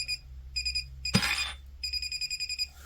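A KAIWEETS KGP01 pinpointer metal detector beeps in rapid pulsing bursts while sensing metal through a table, the tone stopping briefly around a close scraping clatter before resuming.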